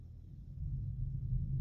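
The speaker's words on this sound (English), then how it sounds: "oh, it's thundering, by the way." Low, steady thunder rumbling on and off, a deep continuous roll that swells slightly partway through and stays fairly faint and distant, with no voices.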